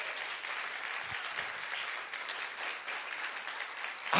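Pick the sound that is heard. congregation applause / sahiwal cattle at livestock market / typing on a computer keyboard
congregation applause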